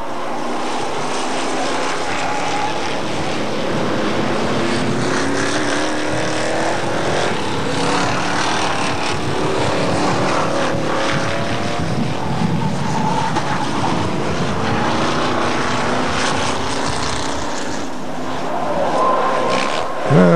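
Several Hotstox race cars roar past on a short oval track at Buxton, a continuous loud engine drone with rising and falling pitch from multiple cars, and a faint voice in the background.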